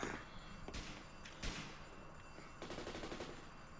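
Gunfire rings out in a Grand Theft Auto IV cutscene, with short bursts of rapid shots in separate volleys, fairly quiet overall, over faint game ambience.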